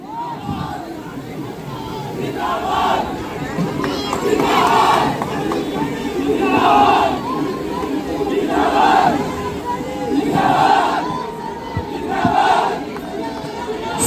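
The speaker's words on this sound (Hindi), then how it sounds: "मैं चाहूंगी एक बार जबरदस्त तालियां हो जाएं हमारी प्यारी भारती के लिए." Large crowd at a marathon prize ceremony in Narnaul, loud sustained cheering and shouting with rhythmic bursts of chanting, close and continuous, with voices mixed in throughout.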